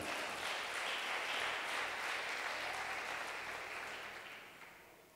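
A church congregation claps together in a sustained burst of applause that gradually fades out, with no talking over it.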